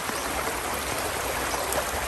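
Steady, broad rushing of floodwater flowing down a flooded street, about 10 cm deep, like a fast river, constant and fairly loud with no voices.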